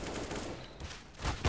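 Gunfire from a CS:GO match: a short burst of sharp shots over steady in-game noise, then a loud close crack at the end.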